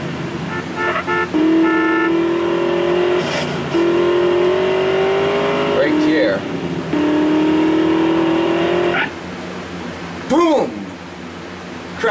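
A car driving in Grand Theft Auto San Andreas: a loud engine revving in long rising whines, dropping between gear changes, with a horn-like honk and a quick screech near the end while someone talks over it.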